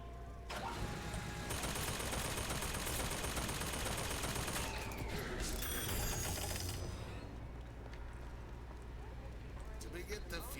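A turret in a video game fires long sustained bursts of rapid automatic gunfire, loud and dense. The fire breaks off partway through, leaving quieter game noise with a few sharper mechanical sounds.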